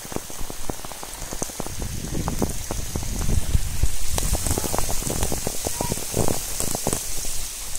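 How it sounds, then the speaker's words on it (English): Rain pattering onto water and surfaces at a fishing farm, a steady dense hiss studded with close, sharp drop impacts that swell slightly in the middle before easing. "I think it's raining."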